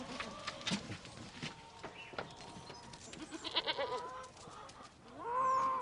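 Several goats bleat at intervals, some nearer and louder, one long bleat at the end, with faint birdsong and rustling in the background.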